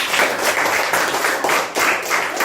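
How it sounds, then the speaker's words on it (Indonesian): A classroom group claps their hands in loud, close bursts of applause with brief dips between rounds. "Tepuk tangan."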